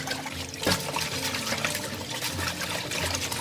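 Mimosa (water mimosa) vegetables being washed in a basin of water, with a steady close splashing and trickling of water throughout and a brief louder slosh near the start.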